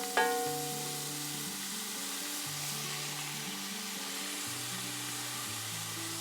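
Mirepoix and hog jowl ham sautéing in olive oil in a pan, a steady close sizzle and frying hiss running throughout, with a brief clink at the start and a faint low hum underneath.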